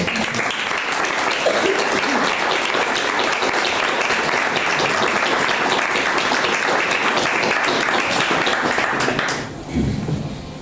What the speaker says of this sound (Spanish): dar un aplauso a esos escritores que están en primera fila